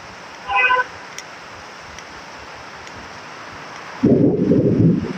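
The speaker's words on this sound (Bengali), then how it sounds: "কি কি জোরে জোরে মেঘ ডাকতেছে" Heavy rain pours as a constant hiss, then a loud, deep rumble of thunder rolls in close toward the end; a brief higher sound appears early on, and no one speaks.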